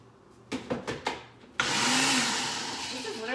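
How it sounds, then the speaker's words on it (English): A malfunctioning kitchen blender starts after a few short knocks and runs as a loud, steady roar, close by and continuous, with no voices. "My blender has been acting super shady lately"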